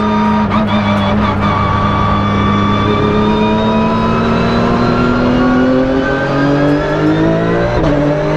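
A Porsche 992 GT3 Cup race car accelerates hard, engine note climbing steadily through the gears with rising harmonics, loud and close from inside the cockpit, one brief shift dip near the end.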